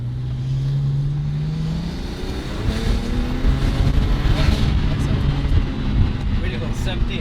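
A 600 hp twin-turbo BMW 335i with a JB4 map runs under load on a test drive, its engine a loud, steady low drone from inside the car that swells as it accelerates, with no talk over it.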